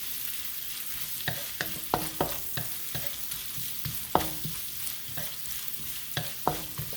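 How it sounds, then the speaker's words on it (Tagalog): Ginger sautéing in butter in a pan, a steady close sizzle broken by sharp scrapes and clacks as a utensil stirs it, with no talking. "I-saute lang natin yung ginger."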